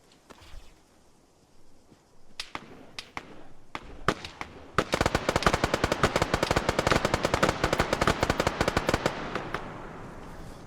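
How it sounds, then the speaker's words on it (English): Gunfire during an Arma public multiplayer operation: scattered single shots at first, then sustained, rapid automatic bursts crackling loud and close for the second half. "I think they're shooting at the other team"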